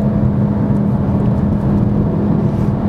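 Steady cabin drone of a 2015 VW Golf R with adaptive suspension driving, a continuous mix of low engine hum and road noise at constant level, with no voices.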